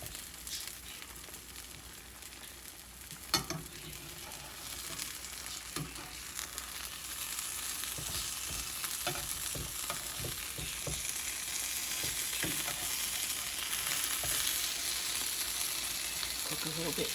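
An egg roll stuffed with grilled cheese fries in a pan, giving a steady close sizzle and crackle throughout with occasional soft stirring or scraping clicks and no talk.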